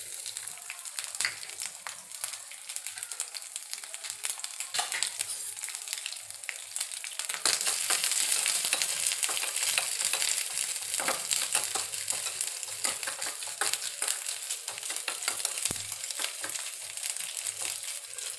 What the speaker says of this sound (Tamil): நல்ல கோல்டு கலர் ஆறு வரையும் தேங்காய் வறுத்துக்கணும்.